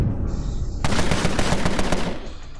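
Rapid automatic gunfire bursts out in a dense, loud volley of shots from a 1920s gangster strategy game, rattling on for over a second before tailing off, with a quieter tone before it and no talk.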